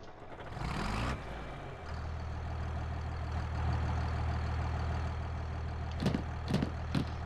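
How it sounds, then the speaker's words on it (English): Tractor engine cranking and catching, then settling into a steady low diesel idle close by, with a few sharp clanks near the end. "Fire the tractor back up."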